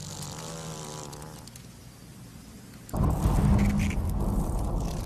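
Asian giant hornets give a close, droning buzz at first, which fades before a sudden louder rush of noise takes over.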